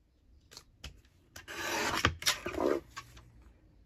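Paper being cut for a journal insert: a few light clicks, then a loud rasping scrape in the middle that fades into softer taps.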